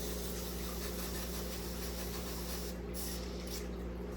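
A spray bottle mists tropical house plants indoors in winter, including a large pothos and a verde plant, giving a steady close hiss that holds throughout, with a few brief breaks near the end.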